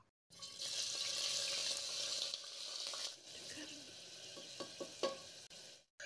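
Crushed onions dropped into hot oil with cinnamon and star anise for Chettinad mutton kuzhambu give a loud, hissing sizzle that starts abruptly, then eases to softer crackling with a few stirring knocks.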